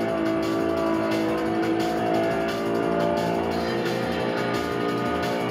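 A car in the racing game Test Drive Unlimited drives along with a steady, loud engine drone that rises and falls slightly with throttle, continuous and close with no talk over it.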